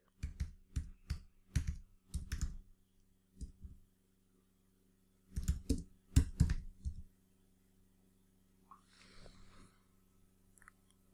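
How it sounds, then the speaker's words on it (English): Bursts of close, crisp keystrokes on a computer keyboard, two clusters of rapid typing separated by a pause, then quieter faint rustling at the end. "Let's type in 15th day."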